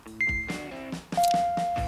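A timer set off at the start of a game of hide and seek gives clear electronic beeps: a high tone first, then a lower, longer tone, with clattery handling noises in between.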